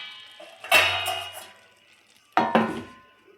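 Metal lid clatters onto a cooking pot of ragi shavige upma in a home kitchen, two sharp clanking contacts about a second and a half apart, each ringing briefly before settling, close and clear with no talking.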